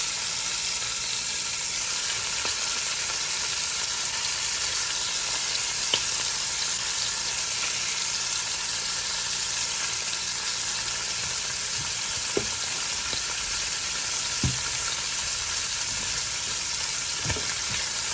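Garlic sizzles with smoked turkey tails in a Dutch oven, a steady loud frying hiss throughout, with a few soft clinks and stirring taps.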